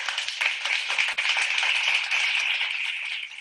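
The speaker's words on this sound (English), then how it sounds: "Can we give her a virtual clap?" Dense, steady clapping from an audience at a network marketing team leaders' sharing session, held at even loudness for the whole stretch with no voices on top.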